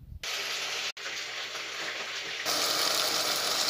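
Meat sizzling in a pan while frying for plov, a steady loud crackling hiss that briefly cuts out once and then grows a little brighter toward the end.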